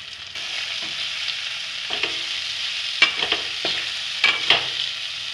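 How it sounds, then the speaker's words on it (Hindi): Summer squash curry (chappan kaddu) is stirred in a pan, a soft continuous sizzle broken by several scraping spoon strokes and clinks, fairly close and moderately quiet. "अब इसको अच्छे से मिक्स करेंगे।"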